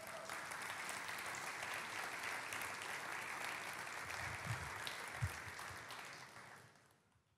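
A church congregation applauds steadily during a sermon, a dense, even wash of clapping from many hands that holds for several seconds and then fades out, heard from some distance.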